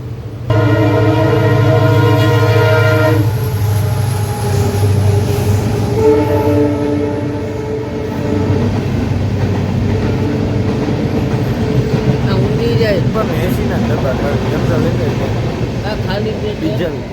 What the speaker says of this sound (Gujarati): આ બીજી કોઈ ટ્રેન આવતી લાગે.